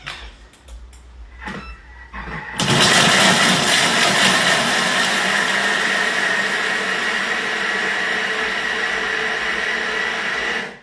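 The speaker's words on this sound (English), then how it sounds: "Let's just quickly grate this cheese." A Thermomix TM6 grates cheese with a loud, steady whirring roar. It starts abruptly after a few faint knocks and runs evenly for several seconds before cutting off.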